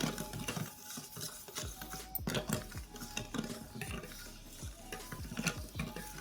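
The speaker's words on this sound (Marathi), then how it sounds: "साखर वेगळेपर्यंत छान मिक्स करायचं" A spoon stirs sugar into ghee and milk for shankarpali dough, a close, soft, steady scraping and swishing with a rhythmic pattern and no talking.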